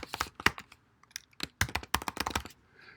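Typing on a computer keyboard while a Mailchimp newsletter is edited, with bursts of close, crisp key clicks in uneven runs and short pauses between them.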